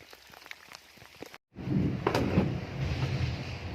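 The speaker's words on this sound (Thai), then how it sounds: "ตอนนี้ฝนตกนะครับ" Rain falls on a farm during an eel-fishing outing in Thailand: sparse faint ticks first, then after a brief silent break a steady, louder hiss of rainfall with no voices.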